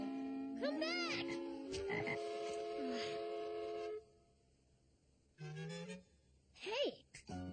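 A cartoon frog named Froggy croaks in bursts of bright, warbling calls, loud and close, with pauses between and lively voices talking around them.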